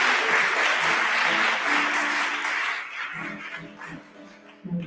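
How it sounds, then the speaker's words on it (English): A concert audience at an interfaith gathering gives a loud, dense round of applause that thins out and fades after a few seconds, leaving a few scattered claps and murmurs. "Give yourselves a round of applause for being here today"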